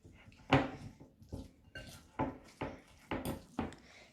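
Sausage meat is worked together with tomato paste in a bowl, giving a run of soft, squelchy knocks and scrapes at an irregular pace, close and fairly quiet.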